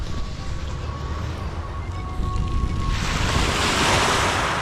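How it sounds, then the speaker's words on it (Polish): Calm sea surf off the coast at Nice rolls in as a steady, continuous wash, swelling louder toward the end, with wind buffeting the microphone and a faint tonal hum running underneath. "morze jest spokojne"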